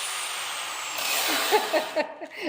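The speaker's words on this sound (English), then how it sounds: "that would be my husband running a grinder" A power grinder running idle on a home workshop without cutting anything, a steady loud whine that drops away near the end, with a few short clattering knocks toward the close.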